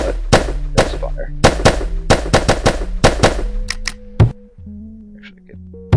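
A P226 pistol fires in a video game, about a dozen sharp shots in quick uneven bursts, loud and close, then a few clicks and handling sounds; a voice speaks lightly beneath.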